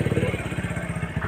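Motorcycle engine idling nearby with a fast, steady, chugging pulse at a moderate, even volume.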